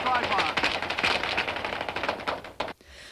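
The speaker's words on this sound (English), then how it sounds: "The ATF had plenty of automatic weapon fire." Rapid automatic weapon fire in a dense rattling stream of shots, fairly loud and continuous for nearly three seconds before cutting off.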